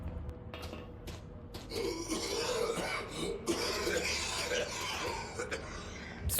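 A character in S.T.A.L.K.E.R.: Lost Alpha coughs and rasps harshly several times in close succession, rough and breathy, over low game ambience.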